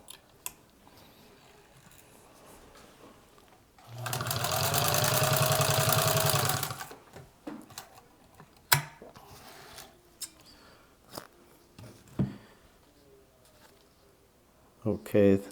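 A Singer 66 sewing machine stitches through two layers of marine vinyl with heavy industrial thread, a loud steady mechanical whir running for about three seconds, surrounded by quieter handling clicks and bumps and someone talking.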